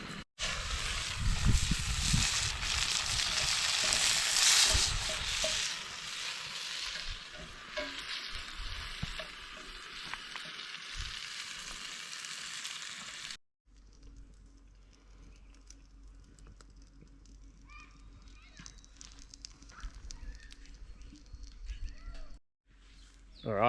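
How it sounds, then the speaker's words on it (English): Steady, loud sizzling and crackling of chicken frying in a skillet, fading to a quieter, sparser sizzle partway through. "chicken in the skillet right now"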